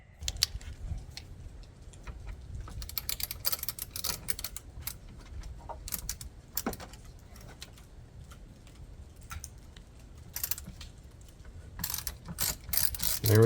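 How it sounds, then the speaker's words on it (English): Ratchet fitted with a Torx bit on an extension, backing out fuel injector bolts on a 6.0 liter Powerstroke diesel: quick, close clicking in uneven runs with brief pauses, no talk. "use the Torx bit on one of these extensions rather than a Torx socket"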